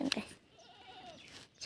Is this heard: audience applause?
no